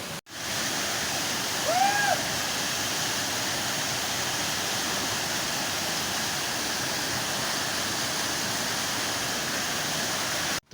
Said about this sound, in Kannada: ಸೊ ಇದು ನಮ್ಮ 2ನೇ ವಾಟರ್ಫಾಲು, ಪಾಲಿ ವಾಟರ್ಫಾಲಿನ ಇನ್ನೊಂದು ವಾಟರ್ಫಾಲ್